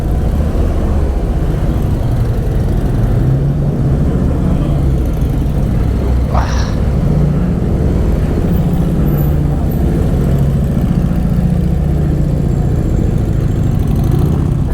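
Harley-Davidson motorcycles pulling away from a bike shed on London streets, a loud, steady low engine rumble and road noise holding throughout, with a brief rising whine midway.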